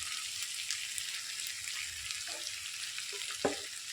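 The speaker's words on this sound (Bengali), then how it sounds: "দিয়ে ভালো করে কষিয়ে নেব" Curry sautéing in a pan with salt, turmeric and dry chili powder gives a soft, steady sizzle, with a few faint knocks of stirring and one sharper clack near the end.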